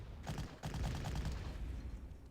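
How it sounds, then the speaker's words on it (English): Cannon and gunfire from a tank attack in the strategy war game Panzer Corps, a loud burst of rapid booming shots with a short gap before a second run of sharp impacts. "So we'll attack with our big tank first."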